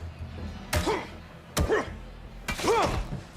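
A baseball bat strikes enemies in the video game Days Gone: three heavy thuds land about a second apart, each followed by a short groaning vocal cry.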